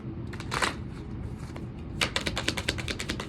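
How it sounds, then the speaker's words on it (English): Oracle cards from a Money Moves deck being shuffled by hand, with quick crisp riffling flutters in two bursts, close and fairly soft. "Let's get some cards from the Money Moves Oracle deck"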